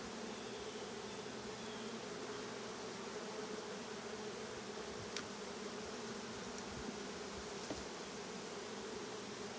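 Honeybees buzz during a beehive inspection, forming a dense, steady drone that hangs throughout with only faint handling clicks and no voices.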